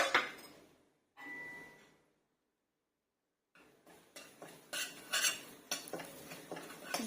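Red chilli and coriander powder being stirred and sautéed in a pan for shahi paneer, with spoon scrapes and clinks in two bursts separated by a silent gap.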